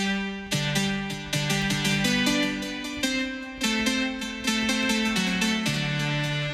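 Original Mozart melody, bright and jubilant, plays as a string of crisp, evenly spaced notes over a lower accompaniment, moderately quiet and alone.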